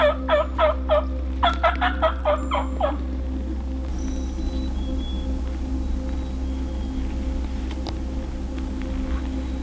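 Wild turkeys gobbling during a Utah archery hunt, two loud rapid gobble bursts close by in the first three seconds, then only low steady outdoor hum.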